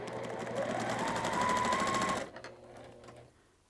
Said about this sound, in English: So I'm going to put these 2 together like that. And sew as much as I can